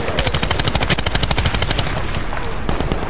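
Automatic weapon fire in the Medal of Honor video game rattles off in a rapid, loud, close burst of shots, then breaks into scattered trailing echoes.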